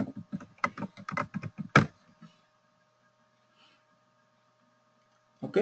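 A password is typed on a computer keyboard in a quick burst of clicking keystrokes lasting about two seconds, then the room falls quiet with a faint hum before a last short sound.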